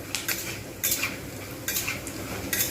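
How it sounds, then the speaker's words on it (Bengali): Egg pasta frying in a pan while being stirred, with a steady sizzle and several bright scraping bursts from the utensil against the pan, close and clear with no talk. "ভালোভাবে ভেজে নিতে হবে যেন এর মধ্যে কোনো কাঁচা ভাব না থাকে"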